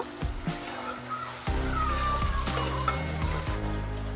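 Chopped tomato is stirred into onions frying in a hot pan, with a steady close sizzle and crackle. Scraping stir strokes recur at a slow irregular rhythm, and no one speaks.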